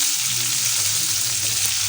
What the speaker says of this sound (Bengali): আলুগুলো দিয়ে দিলাম